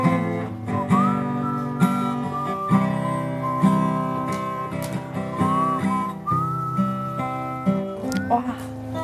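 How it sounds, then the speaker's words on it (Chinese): A melodic whistle is blown near a crackling campfire outdoors, its wavering tune rising and gliding over a low, steady background hum. "吹哨子好好听啊"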